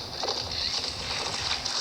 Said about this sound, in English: That's a new horse.